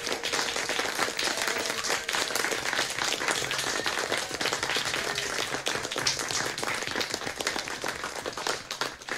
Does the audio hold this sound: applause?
yes